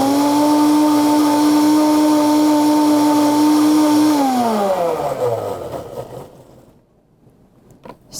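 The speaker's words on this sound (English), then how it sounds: "I use that boiling water to help clean the blender" Blender running with boiling water inside to clean it, a loud steady motor whine that drops in pitch and winds down over several seconds, leaving near silence with a small clatter at the end.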